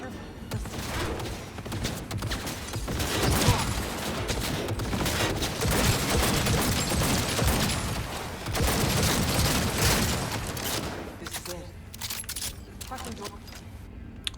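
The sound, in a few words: turret gunfire from the Cyberpunk 2077 video game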